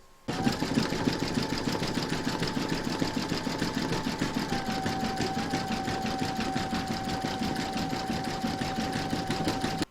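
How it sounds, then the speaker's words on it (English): An embroidery machine runs a steady, fast satin stitch on a scarf section of an in-the-hoop stacked snowman, a continuous close mechanical whir with a rapid needle rhythm that holds through the whole stretch. "Load whichever colour you want for the scarf satin stitch into your machine and then stitch round number 10."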